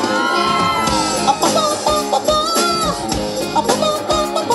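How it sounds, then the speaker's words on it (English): A concert crowd at a rock show in Clayton, California screams and whoops loudly and continuously, blended with the band's dense, steady playing. "Now let me hear you scream like you're losing your mind."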